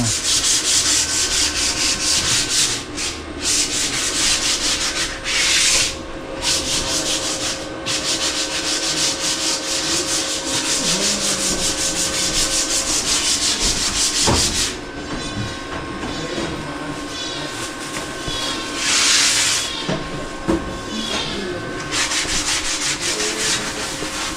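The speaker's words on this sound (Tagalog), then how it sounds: "Puro sanding pa lang, ano." Pine wooden walls of a pigeon loft are sanded with a loud, continuous abrasive rasp that keeps going throughout, with small surges and brief dips in intensity.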